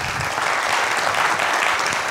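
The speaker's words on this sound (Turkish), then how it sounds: "O yüzden kocaman bir alkış istiyorum" A crowd at the JSKonf 2023 JavaScript conference, gathered on a rainy day, bursts into loud, dense applause, a continuous even wash of many hands clapping close by.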